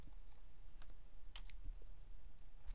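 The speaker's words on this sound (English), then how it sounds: "I'm going to type, this is a blocks and box, so it's going to be BL23." Typing on a computer keyboard for data entry: quick, irregular clusters of light key clicks close by, fairly quiet, with no voices.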